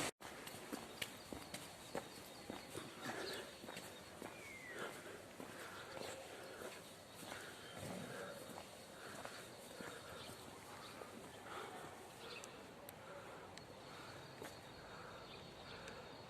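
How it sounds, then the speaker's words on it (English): Faint horse hooves clip-clop at an unhurried walking pace in Benidorm, Spain, distant and soft against an outdoor background, with occasional irregular knocks. "there's a horse."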